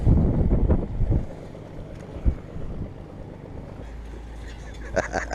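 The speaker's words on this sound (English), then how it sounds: "And the wind's picking up." Wind gusting across an anchored boat on open water, buffeting the microphone with heavy low rumbling that eases, then rises again near the end.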